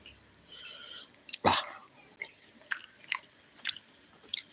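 Someone chews boiled tapioca mixed with fish curry close up, giving a loud bite followed by several short, wet chewing sounds spaced irregularly.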